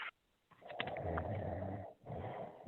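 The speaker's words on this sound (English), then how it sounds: "Is someone sleeping or snoring?" A long, rough snore rises after a brief quiet moment, a rattling inhaled drone lasting over a second, then pauses and starts again; faint and close, with no talking.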